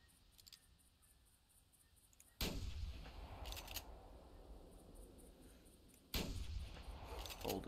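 Two loud, sharp rifle shots fired at boar in theHunter Classic hunting game, the first near the middle and the second near the end, each with a long rolling echo fading out over quiet ambient wilderness sound.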